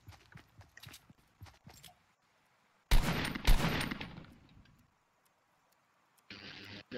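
Gunfire in the battle royale game Fortnite: faint scattered footsteps and small taps, then a sudden loud burst of shots that decays away, followed by a steady noisy stretch.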